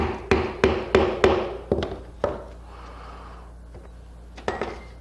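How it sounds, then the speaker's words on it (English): Sharp wooden knocks from a mallet tapping in a woodworking shop, a quick run of five or six close blows followed by a pause and then two more taps. "Use a mallet so you don't damage this"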